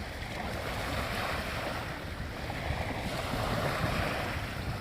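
Ocean surf washes continuously onto a seaside shore during a morning bike ride, a broad steady roar mixed with wind buffeting the microphone, with no voices.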